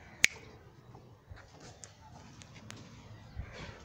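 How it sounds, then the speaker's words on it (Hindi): One sharp finger snap sounds near the start, close and crisp, followed by a near-silent, quiet room. "चुटकी बजाते ऐसे।"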